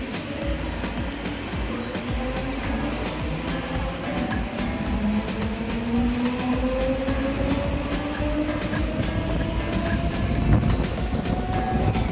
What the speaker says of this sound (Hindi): यहां से ट्रेन हमारे डिपार्ट कर चुकी है।